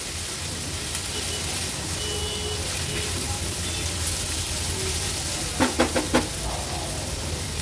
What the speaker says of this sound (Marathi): कांदा आपल्याला लो टू मीडियम फ्लेमवर व्यवस्थित शिजवून घ्यायचा आहे।